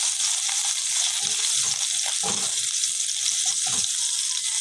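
Garlic sizzles steadily in hot oil in a pan, a continuous bright crackle with a few soft scraping touches, close and fairly loud with no talking.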